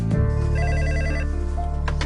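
A telephone bell rings loudly in repeated bursts for about two seconds, close and clear, with no talk over it.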